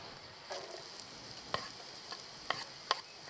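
Onion and garlic frying in a pan at an outdoor bushcraft camp, a soft, steady sizzle broken by a few sharp clicks and scrapes of stirring, with no one talking.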